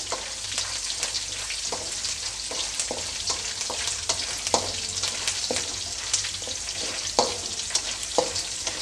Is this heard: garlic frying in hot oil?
yes